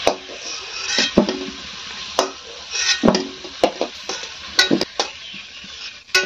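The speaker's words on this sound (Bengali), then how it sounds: "ঠাকুমা এখন আলু নামিয়ে নিচ্ছে বা আলুটা ভাজা হয়ে গেছে।" Fried potatoes scraped and lifted out of a frying pan with a spatula, sharp metallic scrapes and clinks landing in irregular bursts over a faint steady sizzle of oil, close and fairly loud.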